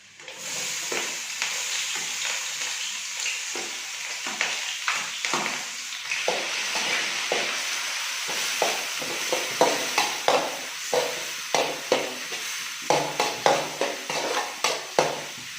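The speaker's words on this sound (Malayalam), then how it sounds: "അതിനുശേഷം ഇതിലേക്ക് കുറച്ച് 2 സവോള ചെറുതായിട്ട് അരിഞ്ഞത് ചേർക്കാം." Chopped onions sizzle steadily in a hot pan for vegetable fried rice while a utensil stirs them, adding repeated scraping clinks that grow more frequent toward the end, with no talking.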